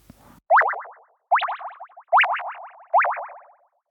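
Synthesized water droplet tones made in the Vital synth, four bouncy pitched blips each trailing into quick repeating echoes, with the filter blend moving from bandpass to high pass; clean and alone.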